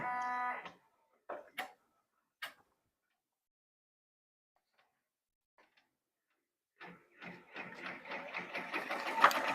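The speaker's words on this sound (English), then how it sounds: "now it's going to do another placement stitch" An embroidery machine sewing a placement stitch gives a few short mechanical bursts, goes quiet, then settles into a fast, even run of ticking stitches that grows louder toward the end.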